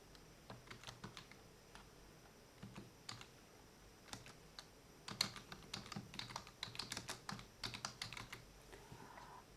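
Light, close clicking of a computer keyboard as a title is typed, with scattered keystrokes early on and a faster run of taps in the second half, quiet and without speech.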